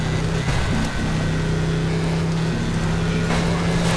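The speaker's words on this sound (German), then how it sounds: "Was ist denn das Auto? Klingt nur wie ein Rasenmäher." Hummer engine in Sega Rally, a thin, buzzing drone much like a lawnmower, holding a steady pitch close up with a slight dip near the start.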